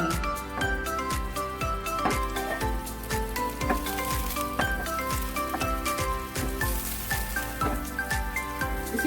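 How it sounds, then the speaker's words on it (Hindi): Chopped green chilies and finely cut garlic frying in a pan for dhaba-style aloo qeema, giving a steady, dense sizzle with frequent sharp crackles and spatters throughout. "अदद लहसुन का जवा है, इसको मैंने बारीक काट लिया है, इसको डालूंगी और इसको पकाऊंगी।"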